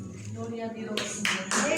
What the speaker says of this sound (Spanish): bien por la hermana que aplaude